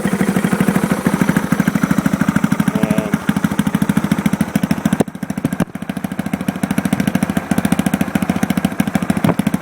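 A KTM 690 Rally motorcycle engine starts and idles loudly and steadily with a rapid, thumping pulse, close by, briefly dipping once before settling back into its rough rhythm.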